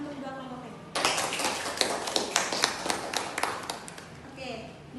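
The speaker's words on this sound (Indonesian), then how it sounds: "Beri tepuk tangan untuk dua kelompok tadi." Students in a junior high classroom clap for two groups, a short burst of uneven, sharp hand claps starting after a second and tapering off, with some talk around it.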